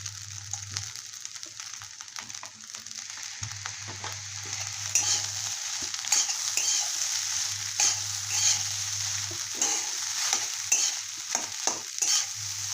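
Leftover rice turned into fried rice with soy sauce sizzles in a pan, a soft continuous crackle broken by scattered spatula scrapes, with no talking.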